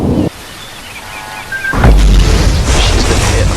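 A ship is struck on the bow by a torpedo explosion: a loud low boom bursts in partway through and rolls into a sustained heavy rumble with wash-like noise after a quieter stretch.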